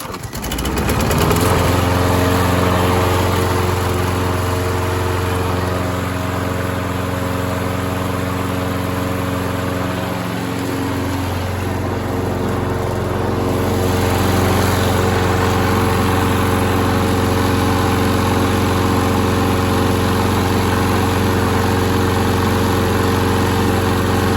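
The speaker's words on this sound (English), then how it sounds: "this is an older style lawnmower, and it will make a little bit of noise" An older gas lawnmower engine runs steadily and loudly nearby, a constant droning hum with a slight dip in pitch midway, no talking.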